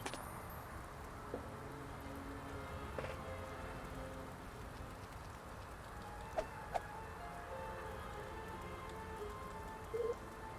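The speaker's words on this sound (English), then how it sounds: "I'm glad I don't have to stand in the rain." Rain falls steadily in the video game Costume Quest 2, a soft, even patter that runs throughout at low volume with a few faint clicks and taps.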